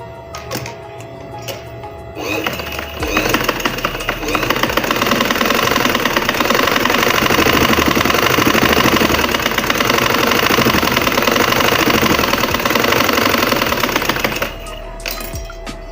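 Sewing machine stitching a straight seam in a beginner tailoring lesson, running steadily and loudly for about twelve seconds with a rapid mechanical chatter, starting and stopping cleanly with quieter pauses at each end.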